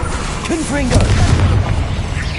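A Confringo fire-blast spell in Hogwarts Legacy combat goes off as a heavy booming explosion with rumbling low end, preceded by a short shouted voice.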